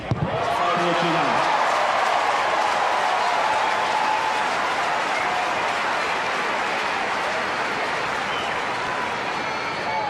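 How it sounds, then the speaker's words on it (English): A tennis crowd at the 2004 Cincinnati final gives Agassi a standing ovation, loud sustained applause and cheering that begins abruptly and holds steady as a dense wash of clapping throughout. "And a standing ovation, the crowd rising to Agassi as he consolidates the break"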